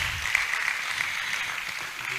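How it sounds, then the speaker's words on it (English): Audience at a university inter-faculty debate competition in Nigeria keeps clapping, a dense, even wash of applause heard at a moderate distance with no clear voices. "Keep on clapping, keep on clapping, keep on clapping."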